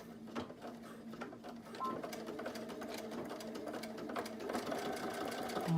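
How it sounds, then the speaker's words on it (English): A sewing machine stitching along the folded edge of fabric for a homemade face mask, a close, steady mechanical whir and rapid needle clatter that holds even and grows slightly louder, with no talk. "sew right on the edge of the folded fabric, as close to the edge as you can get"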